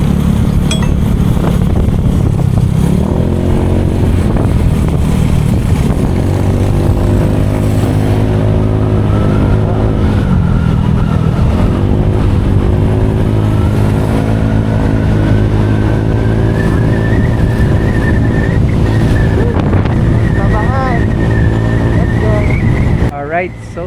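A motorcycle engine drones loudly and steadily, its pitch rising and falling with the throttle, under constant rumbling wind buffeting the microphone.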